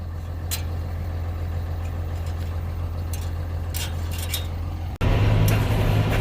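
A John Deere 7520 tractor engine runs steadily at idle in a farm field before spreading, a constant low rumble with faint high clinks, then a sudden jump to a louder, rougher engine note near the end.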